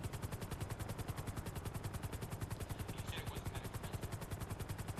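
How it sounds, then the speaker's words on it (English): A helicopter in the video game GTA Online gives off a steady, fast rhythmic rotor thumping that stays even and moderately loud throughout. "You can get a helicopter from Uber?"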